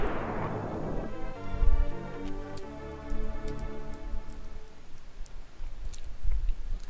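A power bomb goes off in Super Metroid with a loud, noisy burst that sweeps downward and fades within a second. Ringing tones and small ticking clicks follow, then a few low thumps.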